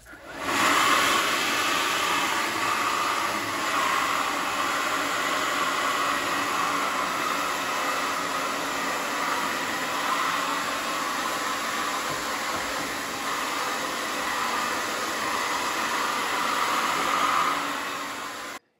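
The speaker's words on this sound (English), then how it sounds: "Using the cruise control arm on this blower, I can just easily set that to, let's say, the maximum speed or half speed and easily blow out some dry leaves." A Toro 60V Flex-Force battery electric leaf blower, running at a set speed through its cruise control to clear dry leaves, gives a loud, steady whooshing roar for nearly twenty seconds. It is close by, has no breaks and then cuts off.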